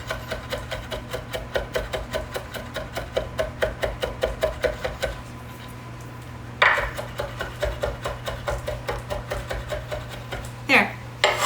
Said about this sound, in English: Just chop it until you're happy with the size